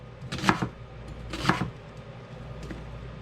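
Knife chopping onions into chunks on a cutting board for an Indian-inspired veggie roast, with two distinct close chops about a second apart and a fainter third tap.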